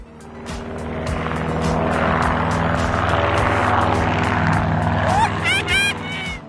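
A Paw Patrol toy airplane's droning electronic engine hum rises and holds steady, ending with a few chirpy, warbling electronic effects.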